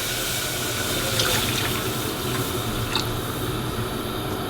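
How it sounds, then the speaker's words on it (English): A milk and water mixture pours steadily into a pan, a continuous loud rushing splash with no pauses. "So I'm just gonna add my milk and water mixture into the pan."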